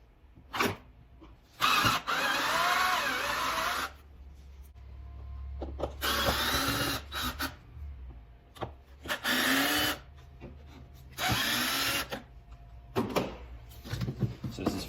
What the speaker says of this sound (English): I find this way easier with drill.